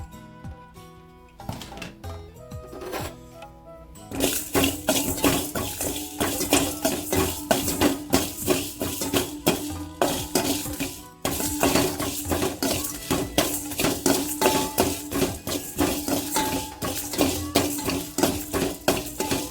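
Dense, steady clatter of a spatula scraping and tossing dry ingredients for carrot rice in an oil-free pan, loud and continuous with no talking.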